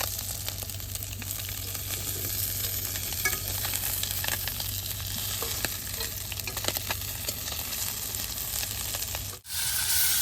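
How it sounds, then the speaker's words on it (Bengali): Fish, small puti caught in a rural field net, sizzles steadily in hot oil in a village kitchen, with scraping stirs and clinks as pieces are turned and lifted from the pan, heard alone with a brief dip near the end. "মাছটি ভাজা হয়েছে, এখন উঠিয়ে নিন।"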